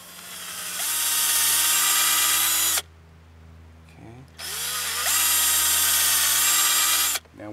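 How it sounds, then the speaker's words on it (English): A power drill whines at high speed in two long bursts, spinning up, biting into a tree trunk as far as the cambium, then stopping, with a short quiet pause between runs. "we want to drill in to the point that we've gone into the cambium"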